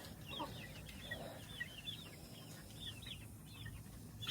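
Faint, soft clucks and short chirping calls from a backyard flock of chickens as new birds are introduced, scattered over a low, steady background hum.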